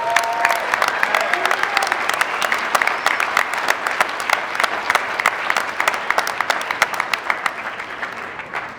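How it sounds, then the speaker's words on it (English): A graduation audience at a winter high school commencement bursts into sustained, dense applause, steady clapping from a large crowd that carries on for the whole stretch and tapers slightly at the end. "Give yourselves a round of applause."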